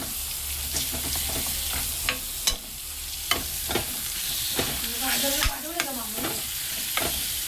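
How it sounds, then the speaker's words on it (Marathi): A spoon stirs a sizzling paneer bhurji mixture with tomatoes in a hot pan, giving steady frying hiss with repeated scraping strokes and occasional sharp knocks against the pan, close and moderately loud. "हे बघा छान असं मिश्रण करतोय"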